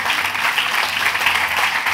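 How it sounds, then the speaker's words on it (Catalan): An audience applauds steadily for a chef's seasonal chestnut-festival dish at a market cooking event, dense continuous clapping heard from a short distance throughout. "Un aplaudiment, sisplau."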